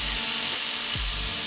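A high-pitched rotary tool whines steadily as a brake line on a 1952 Ford F1 is cut, close and continuous with a brief dip in pitch.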